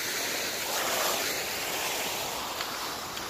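Waves washing onto a shore, a steady broad rush of surf with some wind noise, fairly loud and continuous.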